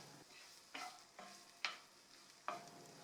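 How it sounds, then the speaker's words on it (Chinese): Chopped shallots and sliced garlic fry in melted butter and olive oil, a soft continuous sizzle broken by four scraping stirs of a spatula at a slow, even pace. "等黄油融化之后，把刚才切好的红葱头碎和蒜片一起倒下去"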